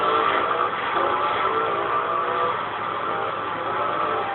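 Car engine driving in the video game Crash Time 4, a steady mid-pitched hum that holds without pause for the whole stretch, with no voices over it.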